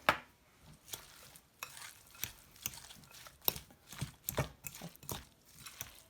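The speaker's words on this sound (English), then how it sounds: "Now I'm going to stir it all up." Guacamole with cumin and pepper being stirred in a bowl, soft repeated squelching strokes in an irregular rhythm, close and fairly quiet with no voices.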